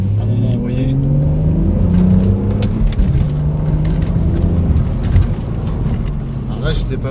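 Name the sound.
BMW Z4 six-cylinder engine accelerating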